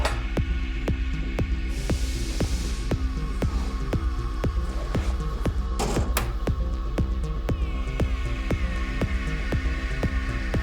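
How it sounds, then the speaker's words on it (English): A thin sheet metal round part is welded with a steady electrical hum and regular rhythmic clicks or pulses, close and continuous, with a brief hiss partway through and no talking. "So let's go weld this up."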